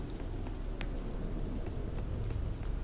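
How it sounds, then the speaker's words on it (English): Rain in the video game Neo HaBits, a steady patter of raindrops hitting surfaces with scattered individual drop ticks over a constant hiss, with no voices. "For some reason it's raining now."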